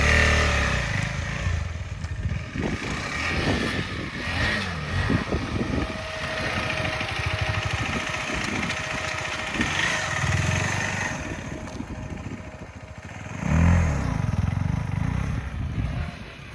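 KTM adventure motorcycle ridden along a dirt trail, its engine droning steadily close by with rising and falling revs throughout and a surge near the end, with faint talk underneath.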